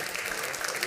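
Audience applause at a church worship service for families, a steady dense wash of clapping that fills the short moment with no talk over it.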